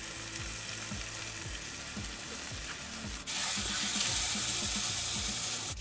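Meat browning in oil for Uzbek plov, a steady loud sizzle with a rapid repeating scrape of stirring, growing brighter and louder partway through.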